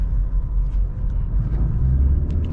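A turbocharged 2005 Opel Astra G Classic 1.6 Ecotec engine drones with a steady low rumble, pulling hard and close, with no talking over it.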